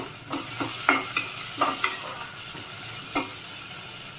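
Thinly sliced vegetables with a little salt sauté in a pan for millet rava upma, a soft frying sizzle under several crisp scrapes and clicks of a stirring spoon against the pan.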